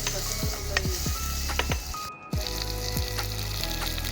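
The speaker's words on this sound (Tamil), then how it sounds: "தக்காளி ஆட் பண்ணிவிட்டு நல்லா வதக்கிக்கோங்க." Tomatoes sauté in a hot pan for a village-style Tiruchendur fish curry, sizzling steadily while a spoon scrapes and stirs in repeated strokes, close and alone, with a brief pause midway.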